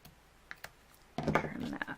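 Scissors trimming along the curved flap of a paper envelope, a quiet start with a few faint snips giving way to a louder, close run of crisp cutting clicks and rustles.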